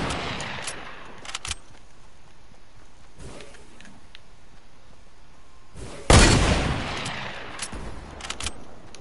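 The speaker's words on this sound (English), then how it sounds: "Where am I getting shot from?" Distant Fortnite gunshots in a battle royale match, a few sharp cracks early, then one louder blast around the middle with a decaying tail, a couple more shots near the end.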